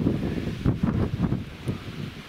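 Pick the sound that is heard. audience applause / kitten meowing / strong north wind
strong north wind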